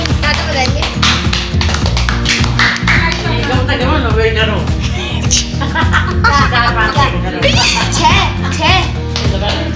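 A group claps steadily through a birthday celebration at home, with brisk, close, continuous claps under lively overlapping chatter and children's voices.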